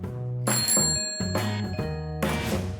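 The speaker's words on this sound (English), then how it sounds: "Did you hear the sound the ring bell made when it was pressed?" A bicycle bell rings three times in bright, metallic bursts, each ring shimmering briefly before fading, close and clear with no talking.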